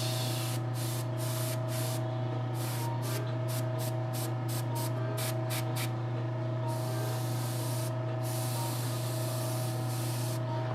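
A spray paint can hisses in a series of short bursts, then longer heavy sprays onto a doll figure, over a constant low mechanical hum.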